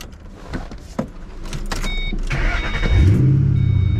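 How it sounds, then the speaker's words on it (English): A Ford Mustang being started after a misfire repair: a whirring starter with electric whine, then the engine catching at about three seconds and settling into a loud, smooth, close idle. "The cold start, it's not cold, but the startup is a lot smoother."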